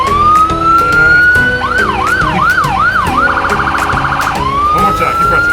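Emergency siren on a truck at a children's touch-a-truck safety expo in Naperville, Illinois, loud and close, rising wail then rapid yelping sweeps and a fast warble before winding back up, over faint crowd background.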